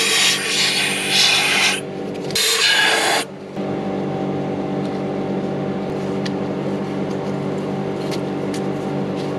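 A new oil filter being screwed on by hand on a Volvo BM 430 tractor, bursts of rough scraping and rubbing close up, then stopping, leaving a steady engine-like hum in the background.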